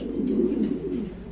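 Lahori pigeons at a breeding farm coo in a steady, low, rolling murmur that runs through the whole short stretch, close and clear with no talk.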